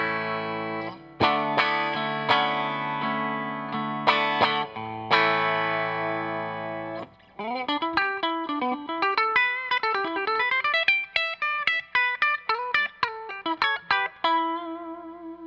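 A Fender Kurt Cobain Jag-Stang electric guitar with its pickups switched out of phase gives a thin, nasal tone. Several ringing chords come first, then a quick run of single picked notes, all loud and close with no voices.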